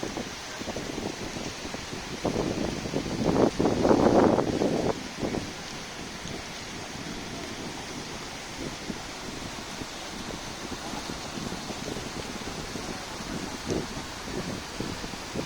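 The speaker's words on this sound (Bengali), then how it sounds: "মুষলধারে বৃষ্টি হচ্ছে সিলেটে।" A steady, roaring wash of heavy rain in Sylhet, swelling louder for a few seconds early on, then settling into a constant downpour with no voices.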